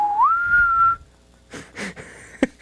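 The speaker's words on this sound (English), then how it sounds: "Oh, I thought you were whistling out the window or something." A person whistles a single clear note that slides upward and holds for about a second, close and loud, followed by soft rustling and a sharp click.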